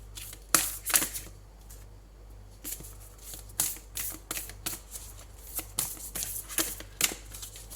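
Tarot cards are shuffled and drawn in a series of sharp, crisp riffling bursts, close up and irregularly spaced, with quiet pauses between them and no talking.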